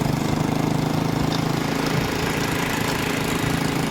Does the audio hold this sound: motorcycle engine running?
yes